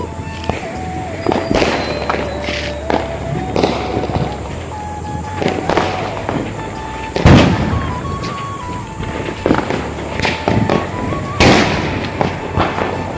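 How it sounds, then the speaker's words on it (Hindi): Diwali fireworks and firecrackers going off all around across Chennai city, with repeated sharp bangs and crackles scattered through the clip, some loud and near, others farther off, over a steady background din. "पूरा चारों तरफ गूंजा थे पूरा चेन्नई शहर हर पटाखे मारे"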